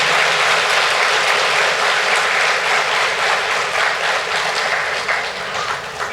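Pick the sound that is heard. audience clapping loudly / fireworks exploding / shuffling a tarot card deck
audience clapping loudly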